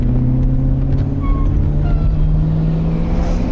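A 1978 Lincoln Continental Mark V Diamond Jubilee Edition with a 7.2-liter 460 V8 and three-speed automatic at full throttle, a loud steady low engine drone heard from inside the car with no talk.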